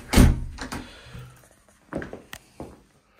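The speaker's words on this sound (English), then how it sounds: "but I will just close the door." A door closes with a loud thunk in a house porch opening into a lounge, followed by a few fainter knocks and footsteps.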